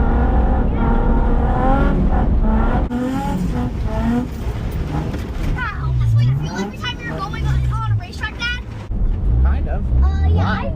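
A midget race car engine revs and whines as it drives, rising and falling through gear changes, with people talking over it.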